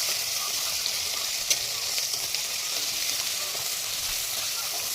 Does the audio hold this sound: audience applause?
no